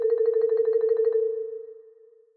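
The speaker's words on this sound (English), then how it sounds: "A trill is rapid fluttering up or down from a note that you're at." A single sustained note with rapid fluttering alternation to a neighboring note, about a dozen quick even pulses, then the trill stops and the held note decays away, played alone.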